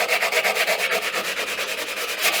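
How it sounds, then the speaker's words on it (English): Steady back-and-forth rubbing of a sanding sponge on wood, a rhythmic rasping scratch repeating about every fraction of a second, close and fairly loud. "Now that that's cut, I'll take my sanding sponge"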